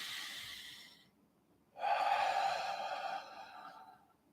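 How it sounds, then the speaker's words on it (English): A slow, deep breath during a relaxation exercise: two long, airy breathing sounds, a softer one and then a louder, fuller one, heard close and alone without talk. "let's take a slow, deep breath to relax ourselves"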